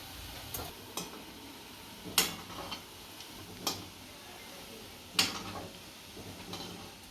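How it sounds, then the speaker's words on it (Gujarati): Bread gulab jamun balls frying in hot oil make a soft, steady sizzle with a few sharp pops and crackles scattered through, quiet and close. "અને એકદમ લાલ થાય ત્યાં સુધી તળાવવા દેશું।"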